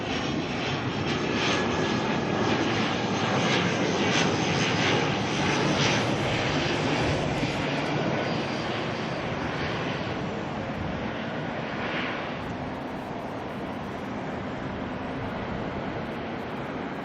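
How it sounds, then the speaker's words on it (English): ATR turboprop airliner arriving at Auckland Airport, a loud steady roar of engines and rushing air that holds throughout and slowly eases as the plane passes. "this ATR coming in from Palmerston North"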